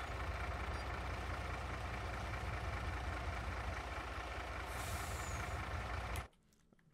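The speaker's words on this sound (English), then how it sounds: "now I'll get in the water tanker in the truck" A truck with air brakes in Farming Simulator 22 runs as a loud, steady engine drone, then a brief hiss near the end before the sound cuts off abruptly.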